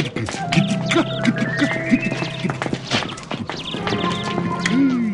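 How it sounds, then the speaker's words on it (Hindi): A horse clip-clops at a quick rhythmic pace in a movie scene, hoof beats steady and close, mixed with a short neigh and music-like tones. "चल मेरे घोड़े"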